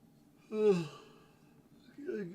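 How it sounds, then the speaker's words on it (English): A man gives a drawn-out yawn in a quiet room, a single breathy rise and fall, followed by a short voiced murmur. "I always yawn midway when I'm talking"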